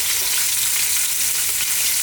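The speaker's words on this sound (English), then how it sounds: "Now we're going to drop in our onions." Chopped onions hit a hot pan with browned lamb pieces, giving a loud, continuous, dense sizzle of frying throughout, with no talk.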